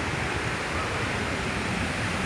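Monsoon-swollen Wangan waterfall near Vansda, its white water pouring in a steady, dense roar that fills the whole clip close up, with no voices.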